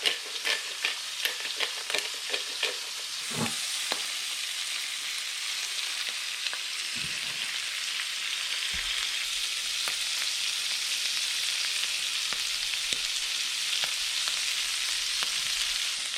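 Squid fries in a hot pan with a constant bright sizzle, broken by scattered scrapes and knocks as it is stirred, close and steady throughout.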